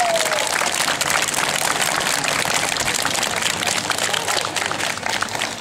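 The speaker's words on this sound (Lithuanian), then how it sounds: "audringiausi plojimai." Applause from a crowd at an outdoor spring festival in Lithuania, dense steady clapping lasting the whole stretch, close and loud.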